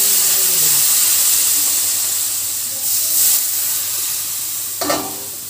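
A paneer curry with sugar and ginger is stirred in a pan, giving a steady close sizzle and hiss with a brief scrape of the spoon near the end.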